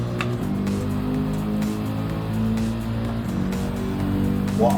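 In Gran Turismo 7, a Mercedes 190E fitted with an AMG GT3 engine drones loudly at high revs, pitch shifting through gear changes and braking with a faint tire squeal near the end.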